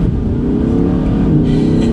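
A 2021 Audi R8 V10 RWD revs hard and steady in comfort mode, a loud deep exhaust roar held close up for a couple of seconds.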